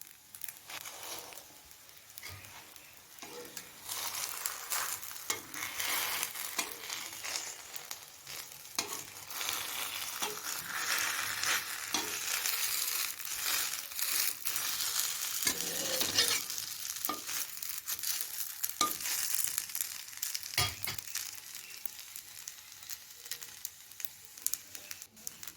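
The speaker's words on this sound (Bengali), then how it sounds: "পাটিসাপটাগুলো ভেজে নেব।" Patishapta pitha crepes fry in a pan, a continuous hissing sizzle that swells and settles over many seconds, broken by occasional scraping and stirring knocks, with no one talking.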